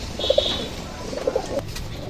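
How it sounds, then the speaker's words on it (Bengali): Pakistani teddy pigeons at a loft give a few soft, low coos in short pairs, fairly close and moderate in level, with faint background noise and no talking. "চমৎকার স্টাইলের চমৎকার গেটাপের কবুতর"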